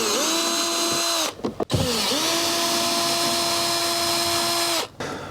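A power drill backs screws out of an RV stove vent cover, whining steadily in two long runs separated by a brief pause with clicks and clatter.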